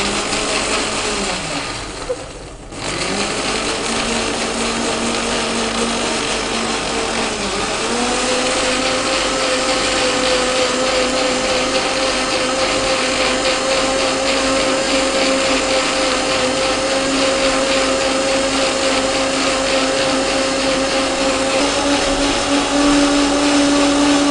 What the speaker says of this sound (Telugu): కొద్దిగా మనకు వాటర్ పోసుకొని మిక్సీ ఆడించుకోవాలి